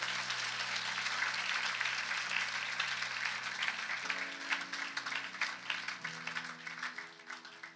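A church congregation at a Christian camp meeting in Tanahun applauds with a dense burst of clapping that fades into scattered claps, while a sustained musical tone plays beneath.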